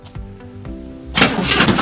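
A 1972 Cadillac engine cranks with a few rhythmic starter turns, then catches and roars to life loudly, running rough and strong right up close.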